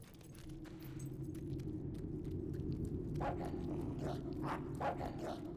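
A dog in the Fable III video game barks in a string of quick, moderately loud yaps over a constant low rumble of game ambience.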